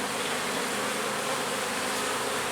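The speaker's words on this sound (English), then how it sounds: "where we see more bees here right in the middle" Honey bees swarm thickly around a heavy hive frame being filled with honey, a dense, continuous, close buzzing hum with no pauses.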